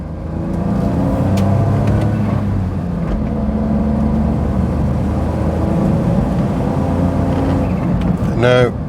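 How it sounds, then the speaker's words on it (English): A Smart Fortwo engine drones steadily from inside the cabin, a low continuous hum without much change in pitch, as the car loses power in limp mode with a suspected boost leak. "That's the car going into limp mode again, so in fact we've lost all power."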